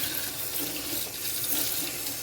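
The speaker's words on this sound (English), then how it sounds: "Just watering the top." Running tap water hisses steadily in a continuous close stream, filling a vessel to water an English ivy plant.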